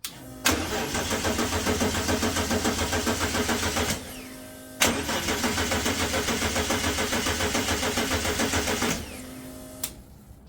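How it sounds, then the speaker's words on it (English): A Mitsubishi Magna street stock race car's engine cranks without catching, in two long, loud rhythmic chugging bursts separated by a short pause, ending with a brief click. "It's not starting yet."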